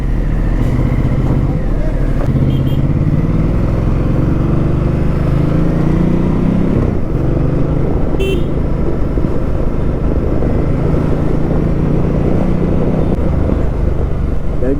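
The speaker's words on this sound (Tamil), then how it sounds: "வண்டியில் ஸ்டாக் எக்ஸாஸ்ட் தான் இருந்தாலும் அந்த பாப்ஸ் வந்து நல்லா வருது" A Ducati motorcycle on its stock exhaust rumbles for a long stretch, engine note rising and falling between revs with a couple of sharp crackling pops, close and loud under wind noise.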